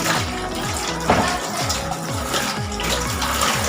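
A washed bottle fills with water from a kitchen tap, a steady loud gush whose hollow tone repeatedly rises in pitch as the bottle fills, heard close up and alone.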